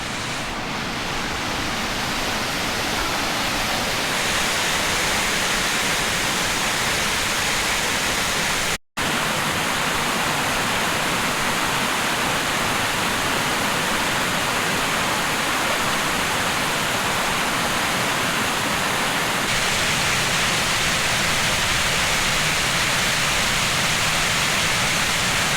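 Eternal Flame Falls gushing in a steady, dense roar of falling water, loud and continuous throughout with one momentary dropout, no voices.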